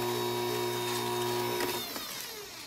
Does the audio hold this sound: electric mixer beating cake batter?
yes